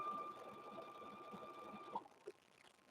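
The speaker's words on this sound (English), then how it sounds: "So we're gonna just stitch up to the transfer" A sewing machine stitches a quilted handbag, its motor whirring in a steady close run for about two seconds before halting, followed by a couple of faint clicks.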